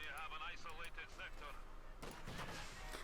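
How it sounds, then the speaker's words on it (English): An artillery barrage from field guns in the Company of Heroes 2 video game, with booming impacts thudding under continuous casting commentary and a heavier burst of explosions toward the end. "Got the field gun barrage."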